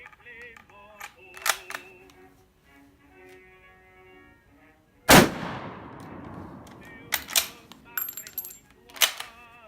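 A single loud close gunshot from a French Lebel Model 1886/M93 rifle booms midway and rings out in a long decaying echo, surrounded by sharp metallic clicks and clacks of the bolt being worked before and after.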